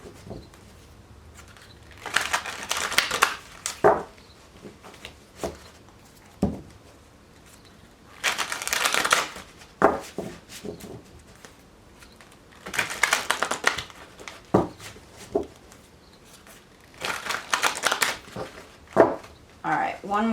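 Bursts of tarot card shuffling recur every few seconds, a rapid papery riffle close to the microphone, with soft handling noises between.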